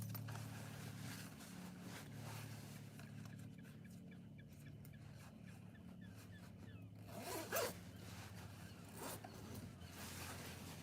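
Jacket zipper pulled up outdoors, one clear zip in the middle of the clip against a steady background hum, close and brief.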